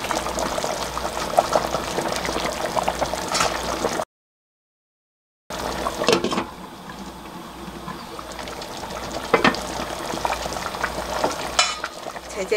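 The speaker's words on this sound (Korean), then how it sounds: "이제 전복을 넣으시면 됩니다." Abalone goes into a pot of boiling seaweed soup, with a bubbling, sizzling simmer and stirring clatter, a short silent gap, then continued boiling.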